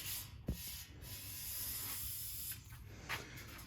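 Short hissing bursts of guide coat sprayed from an aerosol can in a workshop, faint and close, with a few brief clicks and a steady background hiss.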